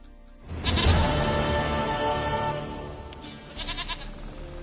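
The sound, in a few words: goat bleating in the video game The Witcher 3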